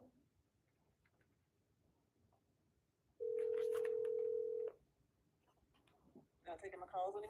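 A malfunctioning telephone gives a single steady dial tone that lasts about a second and a half, clear and level. Quiet talk can be heard before it and after it.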